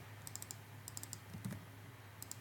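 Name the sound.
computer keyboard keys being pressed for shortcuts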